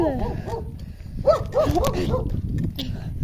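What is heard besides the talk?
dog barking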